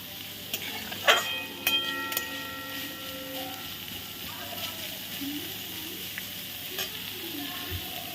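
Onion frying lightly in a little oil in a pan, a soft steady sizzle with a few brief clinks and scrapes early on, fairly quiet throughout.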